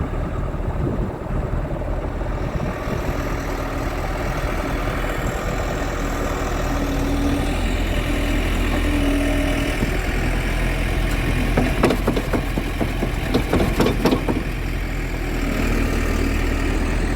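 Tractor engine idling while a manure spreader is loaded with sheep manure, a loud steady low rumble heard close up, with brief clattering knocks partway through.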